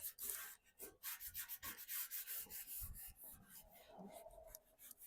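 Scrubber pad rubbing back and forth across a rusty, weather-damaged Blackstone griddle top, a steady run of close, gritty strokes with a fast, uneven rhythm and no talk.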